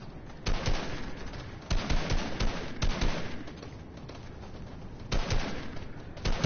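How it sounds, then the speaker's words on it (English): In the video game Fortnite, a gun is test-fired in several loud bursts of rapid shots with short gaps between them, heard alone without talk. "I'm just gonna test shoot. I won't shoot at anybody."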